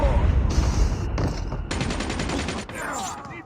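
Bursts of automatic gunfire fill a video game firefight, with rapid rattling volleys, short pauses and a dense close mix of shots and game effects.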